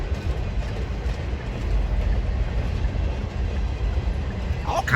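A freight train rolls past close by, a steady rumbling roar of heavy wagons with faint clattering over the rails, continuous for the whole stretch with no voices.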